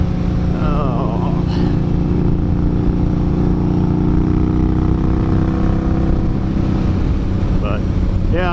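A motorcycle engine drones steadily throughout while riding at a cruising pace, a constant loud hum mixed with wind rush, with brief vocal sounds near the start and end.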